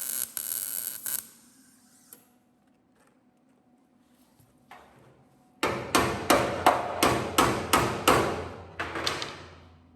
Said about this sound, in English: I'm welding and then welding and hammering so I get a nice clean edge on this.